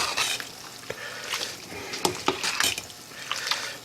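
A utensil scrapes and stirs spinach into tortellini and hot Italian sausage in a pan, giving irregular clinks and scrapes over a soft sizzle, close and moderately loud, with no one talking.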